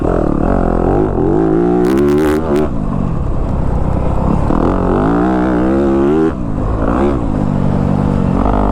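A Yamaha YZ250F dirt bike is ridden on a new, slightly dry track, its engine loud and close throughout, revving up and down in repeated rising and falling pitches, with a brief rattling clatter partway through.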